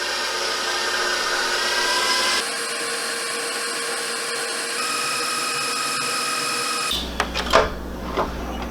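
Stand mixer whipping egg whites for angel food cake at medium speed, a steady whirring motor hum with a shift in pitch partway through, then clinks and knocks near the end, mostly without talk.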